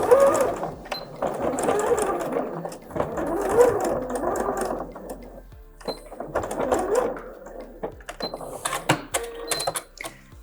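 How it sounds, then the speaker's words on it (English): Sewing machine stitching a skirt's side seams with a straight stitch, a steady mechanical whir in repeated bursts with short pauses, close and moderately loud, no talking. "Stitch the side seams with a straight stitch."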